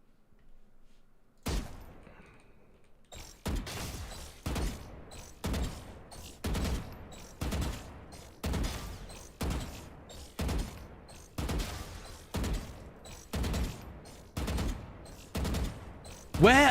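Gunfire in the tactical shooter Valorant: a steady series of sharp, evenly spaced shots rings out close and loud after a brief quiet opening, continuing in a regular rhythm to the end.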